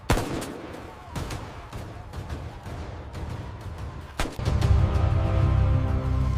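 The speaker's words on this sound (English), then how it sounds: "Officers took immediate cover as gunfire erupted." Rapid gunshots crack repeatedly during a police standoff with a suspect, amid a noisy, chaotic background, some sharp and close, others blending into a continuous rumble of firing.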